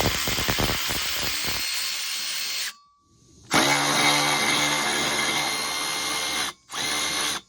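A Milwaukee M12 cordless ratchet backs out the intake grate bolts on a 2022-or-newer Kawasaki Ultra personal watercraft, in loud, close whirring bursts: one long run, a short pause, a second long run, then a brief final spin.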